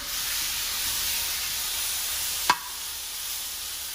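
Meat sizzling in a hot skillet with softened vegetables, a steady bright hiss throughout with a single sharp knock midway, no talking.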